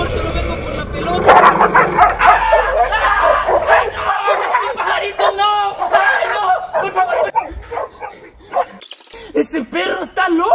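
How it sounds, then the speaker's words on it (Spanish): A small dog yapping and barking in an outdoor setting while people talk excitedly over it, the barks mixed in with loud, busy speech throughout. "¡Ese perro está loco!"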